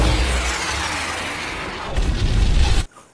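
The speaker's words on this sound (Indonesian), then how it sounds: "Chanli yang baru saja kembali dari berbelanja harus melihat kediaman gurunya hancur lebur terkena ledakan dari roket launcher" A rocket launcher blast destroys a house in a film scene: a sustained roaring explosion with rumbling debris, swelling louder before cutting off abruptly into near silence.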